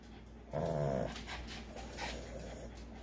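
A Boston Terrier growls once, a short, close, throaty rumble lasting about half a second, followed by quieter panting and faint whimpering sounds in a calm outdoor setting.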